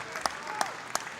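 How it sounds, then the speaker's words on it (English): A small crowd of Hawaii fans claps sparsely at a 1995 men's college volleyball match against Penn, three distinct hand claps standing out in an arena. "Hawaii fans starting to clap just a bit"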